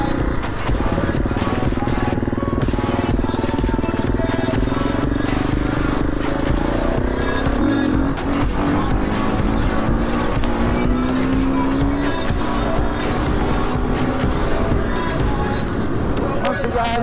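Motorcycle ridden across a bridge on a rocky green lane in the North West, engine revving steadily and loudly up close with rising and falling pitch, with rider talk alongside throughout.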